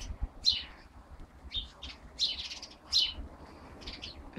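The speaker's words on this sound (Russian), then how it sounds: "О чем это шебечут перед дождем птички?" Several short bursts of bird chirping before rain, close and clear, separated by brief pauses over a quiet background.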